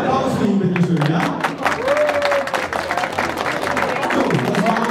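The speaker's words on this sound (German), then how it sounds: "der Applaus für ihn, bitte schön" Audience applause for a prize winner at a German applicant event, loud and continuous with a crowd clapping throughout and voices mixed in.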